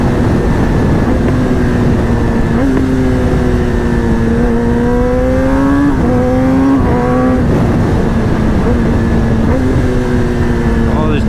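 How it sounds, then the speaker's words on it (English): A 2021 Kawasaki ZX-10R SE sport motorcycle's engine roars up close, dropping through several downshifts with quick blips and crackling exhaust pops between them. "Downshift sounds are so good with the pops."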